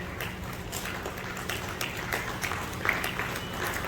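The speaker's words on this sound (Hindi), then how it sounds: "जोरदार तालियों के साथ बातें बुजुर्गों की पुस्तक।" An audience claps steadily at a book launch ceremony, a dense, even patter of hands with a few sharper claps standing out, no speech over it.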